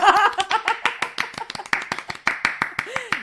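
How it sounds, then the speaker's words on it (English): A small round of clapping on a podcast, sparse and uneven hand claps close by, with voices speaking over the start and a short vocal sound near the end. "A hearty round of applause."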